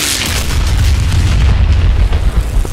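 Bomb dropped from a P-51D in DCS bursts as a loud, deep, rumbling boom that fills the whole stretch with heavy low roar and slowly rolls on without a sharp start.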